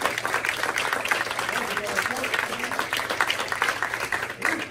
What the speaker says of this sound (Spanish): Y de elevar un aplauso, hacerlo con ganas